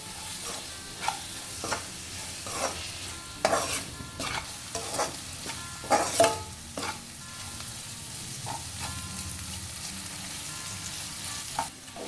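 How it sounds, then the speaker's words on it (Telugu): A spoon scrapes and stirs ivy gourd frying with ginger and garlic in a pan, giving repeated clattering strokes over a soft, steady sizzle, close up and with no voices. "మంచిగా ఇది వాసన అల్లం వెల్లిపాయ ఫ్లేవర్ అంతా దొండకాయకు పట్టే వరకు మంచిగా కలుపుకోవాలి"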